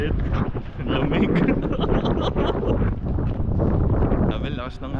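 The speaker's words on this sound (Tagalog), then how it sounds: "Ang lakas pa ng hangin." Strong cold wind blasts across the microphone outdoors at Tokyo Disneyland, a loud continuous roar with muffled voices beneath it.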